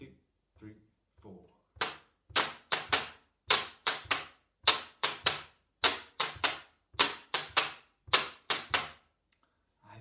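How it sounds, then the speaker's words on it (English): Washboard played with both hands at medium tempo for a jazz tune, a bright run of crisp scraping and tapping strokes in a steady rhythm after a counted-in start, with faint voices at the opening. "when you play the washboard"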